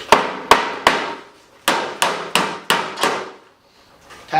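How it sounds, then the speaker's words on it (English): Rubber mallet tapping metal gutter sections together during custom gutter and downspout installation: seven sharp, close knocks in two quick groups, with a short pause between the groups and a faint rustle at the end. "That's where your rubber mallet comes in handy."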